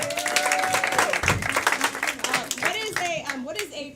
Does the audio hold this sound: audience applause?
yes